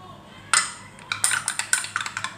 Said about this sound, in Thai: พยายามคนให้มัน ละลายให้หมดนะครับเพราะว่าโกโก้อาจจะชอบลงไปนอนก้นอยู่ข้างล่าง